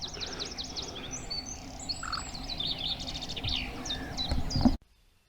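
Several birds sing and chirp near a lake in spring. The tweeting and calls are fairly faint and mixed over a soft outdoor background. The clip ends abruptly in silence.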